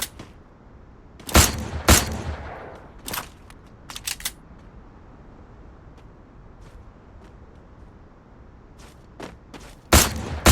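Gunfire in the mobile battle royale game Free Fire, a few loud sharp bursts at the start and end with scattered lighter cracks between, set against a quiet background hiss, no voices.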